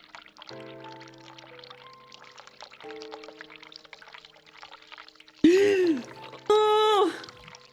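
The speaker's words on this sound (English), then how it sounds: "Okay, hot water's on." Hot water runs from a bathroom tap in The Cat Lady video game, a steady pour under quiet tonal background music, followed near the end by two loud vocal sounds.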